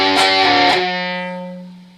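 Distorted electric guitar plays a short phrase from a riff, a few quick picked notes up close, then one sustained note that rings out and slowly fades, with no voices.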